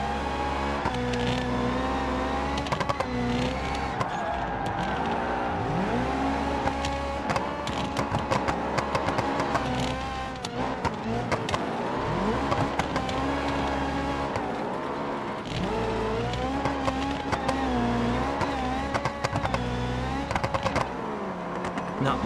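Rallycross race cars lapping at Lonestar Speedway in BeamNG, with several engines droning and revving at once, pitch rising and falling through gear changes, loud and continuous under faint commentary.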